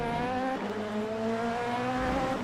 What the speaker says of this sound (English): The car ahead sounds awesome.